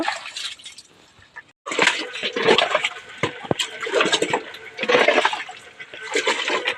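Water being drained from a pond rushes and splashes in uneven surges, pausing briefly before gushing again, loud and close by.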